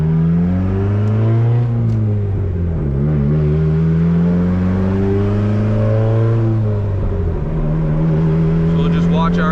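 A turbocharged, built Honda Civic D16 engine pulls hard at full throttle with boost held around six to eight pounds, its loud droning note climbing in pitch, dipping at a shift, then rising again, with wind noise through open windows.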